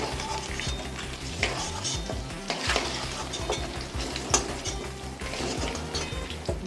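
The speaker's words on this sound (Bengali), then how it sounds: "আমার ডিম কটা ভাজা হয়ে গেছে আমি উঠিয়ে নিচ্ছি" Fried eggs are lifted out of hot oil in a home kitchen pan. A dense, close sizzle and bubbling runs throughout, with repeated scrapes and clinks of a utensil against the pan.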